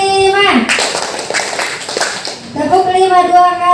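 A group claps a five-beat hand-clapping pattern during a positive-school-culture session for teachers, a short burst of sharp claps set between a spoken voice at the start and again at the end.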